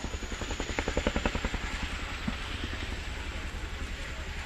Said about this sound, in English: The aircraft will now come to a hover in front of you